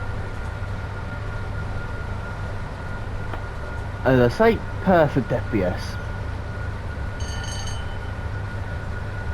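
A locomotive runs at full power in the Train Sim World 5 railway simulator, a steady, droning engine hum throughout, with someone talking over it partway through.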